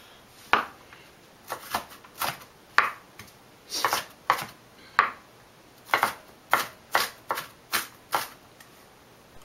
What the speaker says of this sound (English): resume it to the next step where I'm cutting grid patterns onto the Sirlion